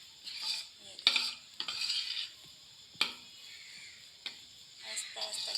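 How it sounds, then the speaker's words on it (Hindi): Metal spoon scraping and stirring lentil, almond and banana halwa as it slowly roasts in a pan over low heat, with irregular clinks and scrapes against the pan over a soft sizzle. "आहिस्ता आहिस्ता ये भून रहा है।"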